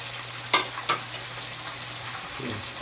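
Steady sizzle of fish frying for sinigang na tilapia fills the background, broken by a couple of sharp clinks of a utensil against the pan early on.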